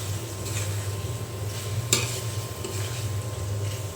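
Cucumber and potato with spices being sautéed in a pan, a soft continuous scraping and sizzle under a low steady hum, with one sharper clack partway through.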